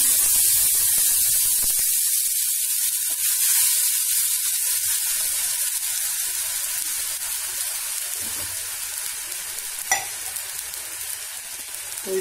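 Cumin seeds with a ground ginger, onion and garlic masala frying in a pan for matar paneer, a loud continuous sizzle and hiss with occasional stirring scrapes, close up, no voices.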